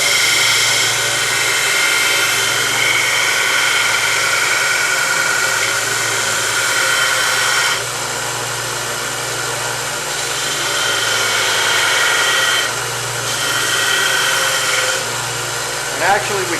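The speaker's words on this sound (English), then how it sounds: "now we're just beveling these where it goes on the front of the blade" Power tool beveling the front edges of knife handle scales and liners, a steady high whine with a low hum beneath that runs continuously and loudly, with a voice talking over it.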